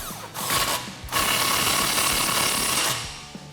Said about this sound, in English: then we'll go ahead and snug that down with our 21mm socket